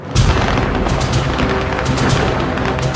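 Heavy WWII battle din from a German Luftwaffe bombing raid on Royal Navy ships off the beaches, a dense, continuous roar of explosions and artillery fire with booming low thuds throughout, loud and unbroken, no voices.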